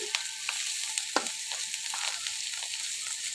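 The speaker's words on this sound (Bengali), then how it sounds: "আমি এখন এই পর্যায়ে একটু নেড়ে দিচ্ছি" Sliced bitter gourd (karela) frying in a pan while being stirred, with a continuous hissing fry and small scraping taps of the spatula.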